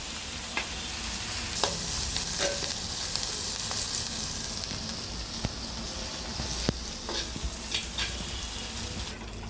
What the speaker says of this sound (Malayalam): നല്ല വെള്ളം വഴന്നതിന് ശേഷം നമുക്ക് അരപ്പ് ചേർത്ത് കൊടുക്കാം.